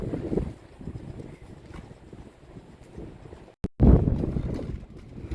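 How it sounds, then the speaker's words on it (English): Strong wind buffets the microphone aboard a sailboat moored at sea off Saint Tropez in the Mediterranean, roaring in uneven loud gusts with a brief dropout and then a heavy blast, with no voices. "You can see how windy it is."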